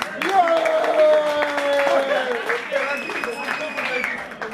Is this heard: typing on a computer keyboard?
no